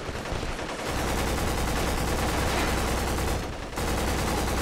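Gunfire from behind the player in the PS2 shooter Black: a dense, continuous roar of rapid automatic fire and explosions filling the whole stretch, loud and sustained with only brief dips.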